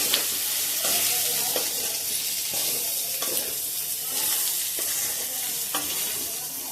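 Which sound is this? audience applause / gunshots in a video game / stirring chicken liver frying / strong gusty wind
stirring chicken liver frying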